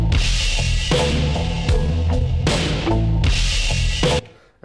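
A slowed, pitch-shifted sample loops on an Elektron Octatrack and Digitakt setup: loud, thick low-pitched music in repeating bursts with abrupt cuts between segments, ending with a sharp drop to near silence.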